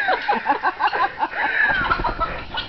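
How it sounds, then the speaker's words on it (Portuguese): Naked-neck chickens and a rooster clucking in a rapid series of short, close clucks, followed by a drawn-out squawk, with no talk. "Olha que galinhona. é uma boa galinha para chocar."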